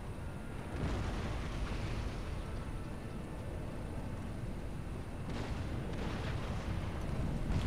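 Cannon fire during an Empire Total War battle, heard as a steady, dense rumble of distant artillery, with a couple of sharper bursts near the end.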